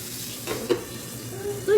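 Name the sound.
potatoes frying in a pan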